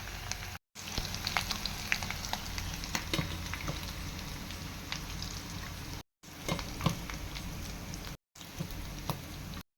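Oil sizzles and crackles steadily in a pan while frying for aloo bhorta, a dense frying hiss with scattered pops, broken by a few abrupt silent cuts.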